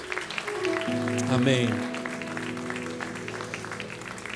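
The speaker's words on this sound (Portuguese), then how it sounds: "Dá um aplauso ao Senhor Jesus." Congregation clapping at an evening church worship service, a dense patter of hands running under sustained music and a voice, fairly close and steady throughout.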